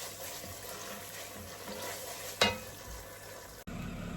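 Tomato puree for jollof frying in a pot as it is stirred, a steady soft sizzle with one brief sharp scrape of the spoon partway through, close and alone.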